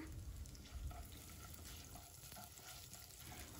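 Cumin seeds and urad dal frying in hot coconut oil in a pan, a steady close sizzle with faint stirring scrapes running throughout, no voices.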